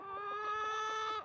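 Chickens in a farmyard give a sustained, loud harmonic call with overlapping clucks underneath, ending abruptly after about a second; no talking.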